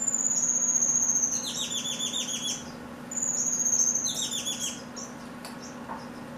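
Pet finches chirp in excited bursts of quick, bright calls that come in two clusters with a pause between them. A steady low hum runs underneath the whole time.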